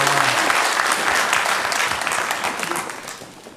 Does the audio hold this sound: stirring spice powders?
no